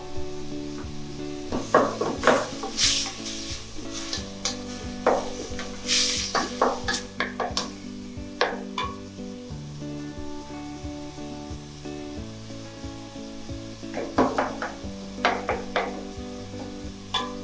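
Ingredients for a whole sweet-and-sour fish sizzle and fry in a pan, with continuous crackling and utensil clinks and scrapes as they are stirred, and no talking.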